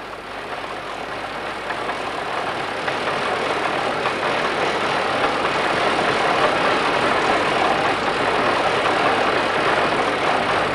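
A homemade miniature tractor engine runs steadily, a loud continuous mechanical drone with rough, slightly knocking texture that swells a little and holds close by with no talk over it.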